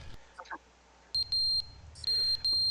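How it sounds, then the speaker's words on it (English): Low-battery chirps from a smoke detector in the game The Stanley Parable, a few sharp high electronic beeps repeating in short bursts over a quiet room tone, with faint talk in the gap between them. "And the smoke detector has a low battery."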